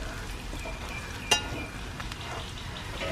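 Prawn roast mixture sizzles steadily in a new pan while being stirred, a soft continuous frying hiss with one brief clink of the utensil partway through.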